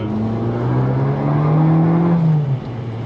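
An Abarth based on the 180 with an Akrapovic exhaust revs, its engine note rising smoothly and holding loud and close before dropping off near the end.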